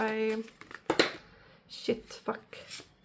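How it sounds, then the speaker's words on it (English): Tarot cards shuffled by hand in short bursts of riffling and sliding, close and fairly quiet, with a voice talking before and between the shuffles. "So I'm gonna shuffle and see what comes out."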